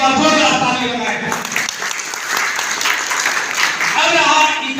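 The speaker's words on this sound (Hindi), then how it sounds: "हमारे राष्ट्रीय अध्यक्ष के लिए एक बार जोरदार ताली लगाएं।" A crowd at a political rally for a march to Jantar Mantar in Delhi claps loudly and steadily, a dense, continuous wash of applause lasting several seconds with some voices mixed in.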